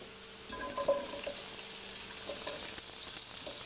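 Onions sautéing in a frying pan for a creamy paleo mushroom soup give a soft, steady sizzle with a few faint clinks near the start, close and quiet, with no talking.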